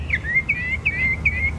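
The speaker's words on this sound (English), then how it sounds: "it was the birds chirping that really messed some people up over the weekend" A bird gives four quick, bright chirps in a steady rhythm, each a short swooping whistle, with a low background rumble beneath.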